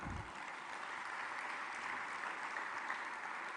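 A crowd at an Indonesian presidential event for mass KUR credit agreements claps continuously for the President, a dense, even wash of applause heard from a little distance.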